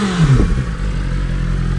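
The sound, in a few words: BMW 2023 S1000RR motorcycle engine revving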